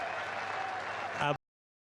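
Capacity crowd applauding at the end of a Scotland v New Zealand T20 cricket international, a steady wash of clapping and cheering that swells briefly before cutting off abruptly.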